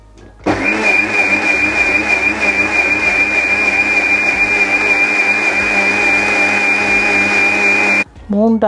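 A mixer grinder grinding coconut for a third extraction of coconut milk, a loud steady motor whine with a high-pitched tone switching on abruptly, running for about seven and a half seconds, then cutting off.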